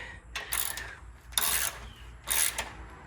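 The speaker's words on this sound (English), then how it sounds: "All right, torque these up. Click." A torque wrench clicks three separate times while engine motor-mount bolts on a truck are tightened, each click a short, fairly close metallic ratchet snap with quiet pauses between.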